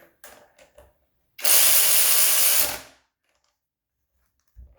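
A Horm electric ratchet, a Makita replica, spins a bolt tight in one loud steady whirring burst of about a second and a half, with a few soft knocks before and after.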